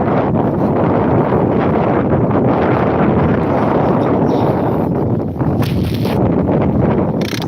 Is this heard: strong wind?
yes